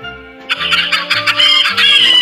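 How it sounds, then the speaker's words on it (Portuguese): A chicken in the horror video game Scary Nights clucks and squawks in a rapid, loud burst of rising calls over a low, droning game soundscape. "A galinha tá aqui. Eu tô ligado que ela tá aqui."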